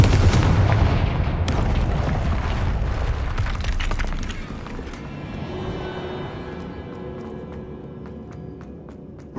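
A Confringo blasting spell going off in Hogwarts Legacy, a loud booming explosion that rolls out into a long rumbling decay, with scattered crackling debris snaps trailing at the end.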